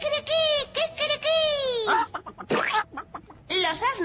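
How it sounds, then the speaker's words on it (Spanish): A rooster crows several times in a row, loud and close, with clucking fowl and cooing pigeons mixed in; the crowing returns after a brief busier stretch. "Mi gallo se llama Quique y canta así"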